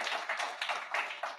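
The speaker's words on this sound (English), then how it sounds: "I'll take that hand clap" Town hall audience clapping: a few hands clapping in a steady, loose rhythm at moderate distance, fairly faint and brief, with no talk over it.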